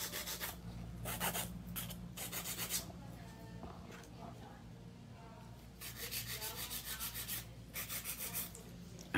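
A fingernail is filed and shaped with quick, raspy back-and-forth strokes that come in bursts with pauses, close and fairly quiet.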